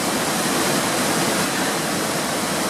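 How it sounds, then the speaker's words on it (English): A waterfall roars as a steady, dense broadband rush of falling water, loud and unbroken throughout with no voices. "Here's another waterfall."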